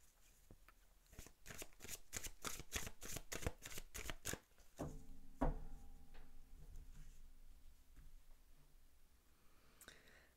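Tarot cards are shuffled in a quick run of crisp riffling snaps, then one card is drawn and laid down with a soft slap, close and quiet, followed by faint rustles.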